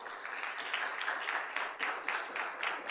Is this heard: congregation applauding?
yes